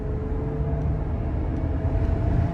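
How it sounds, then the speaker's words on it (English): Japanese V6 engine in a British Rover car running at a steady low rumble, a constant droning hum heard close by with no talking. "Let's have a little listen to the engine."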